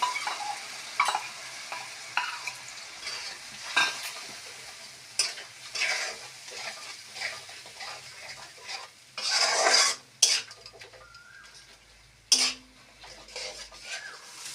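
A spice paste of cumin, coriander, turmeric and chilli powder fries in oil for a jackfruit curry, with a soft sizzle under repeated scraping and clinking of a spoon against the pan, irregular bursts of stirring, close by.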